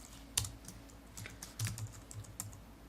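Computer keyboard keys pressed during R programming work, a few sparse, soft clicks and taps at irregular intervals, close and quiet, with no talking over them.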